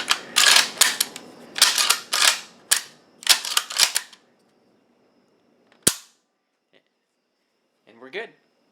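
Sharp metallic clicks and snaps from a Mosin Nagant M44 rifle's bolt and trigger during function tests after reassembly, several quick bursts in a row followed by a few sparse single clicks close to the microphone.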